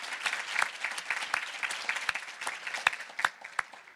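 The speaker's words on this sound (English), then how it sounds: "we should clap for that" Moderate applause from a modest audience at a university Juneteenth gathering, individual sharp claps clearly audible within the patter, rising slightly toward the end with no talk over it.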